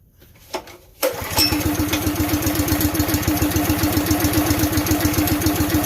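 An air compressor's small engine sputters, catches with a jolt, then settles into a steady, chugging idle with an even pulsing rhythm. It is close and fairly loud.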